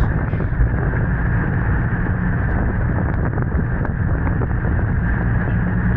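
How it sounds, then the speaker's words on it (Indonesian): Heavy rain and gusting wind batter a boat on the Java Sea during the southeast monsoon season, a dense, loud, unbroken roar with muffled rumble and scattered small knocks, no voices. "tiba-tiba itu langsung turun hujan lebat ini guys"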